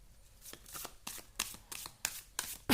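A tarot card deck being shuffled by hand close up, with a run of soft, quick papery riffles and slaps coming in uneven bursts.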